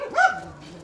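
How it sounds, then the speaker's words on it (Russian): A single short dog bark or yip rings out close by at a snowy dog shelter, a brief rising-and-falling call that fades into quiet background. "Такой пес интересный."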